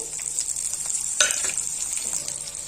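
Mustard seeds and green chillies frying in hot oil for lemon rice, a continuous sizzle with scraping stirs of a spoon in the pan and one louder clatter partway through.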